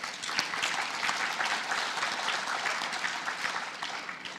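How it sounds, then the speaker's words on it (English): Audience members at an FFA banquet give a round of applause, a dense, steady wash of clapping with individual claps standing out, holding at an even level throughout. "Please give them a round of applause."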